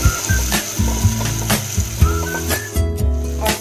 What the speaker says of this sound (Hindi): और इसे भी अच्छे से मिक्स कर लेंगे